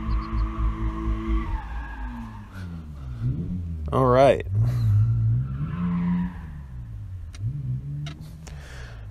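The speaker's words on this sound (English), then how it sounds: "This guy's doing donuts over here." Car doing donuts nearby, tires skidding and squealing in a wavering burst around the middle, heard under someone talking over a low engine rumble.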